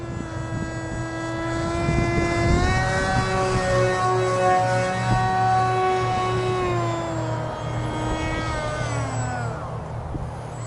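A small RC SU-27 model jet on a 2S battery with an 8-inch propeller flies past, its steady buzzing whine rising and falling in pitch as it passes, loud and continuous with no voices.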